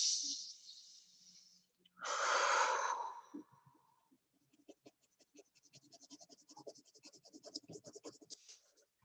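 A hand drawing on paper in a Neurographica color exercise: after two long breathy exhales, a rapid run of light scratchy pen or pencil strokes follows, close and quiet, with no talking.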